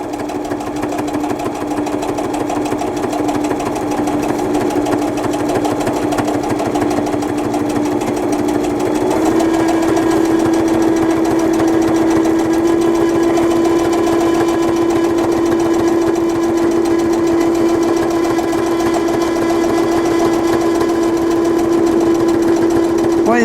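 Sewing machine with a manual presser foot stitching through fabric and glue, a steady loud motor whir with a strong droning hum that runs continuously throughout, slightly rising in pitch partway through.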